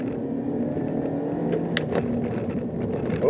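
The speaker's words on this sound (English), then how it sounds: "I'm gonna give it a little throttle mash here" A 2019 Kia Forte with a CVT accelerates at full throttle, heard from inside as a steady, droning engine hum that holds an even pitch rather than climbing through gear changes.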